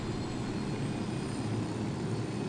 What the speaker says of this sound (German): Ja, geflogen wird mit einem schwarzen Helikopter.